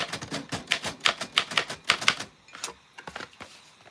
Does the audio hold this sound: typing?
yes